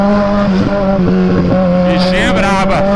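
A Kawasaki Z1000 motorcycle revs loudly in city-centre traffic as the rider tries to lift a wheelie, its steady engine drone rising into sharp throttle bursts near the end, close and continuous.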